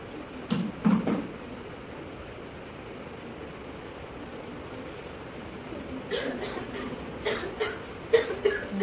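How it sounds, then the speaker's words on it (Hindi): A few short coughs from an elderly man sound near the start, then a quiet rumbling background, followed by several more sharp coughing bursts toward the end. "बाबूजी को खांसी हो रही है"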